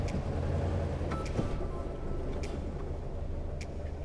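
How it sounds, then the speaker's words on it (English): A Speedster car engine idles just after a carburetor refit, giving a steady low rumble that runs evenly throughout with a few faint ticks on top. "Car's almost idling too."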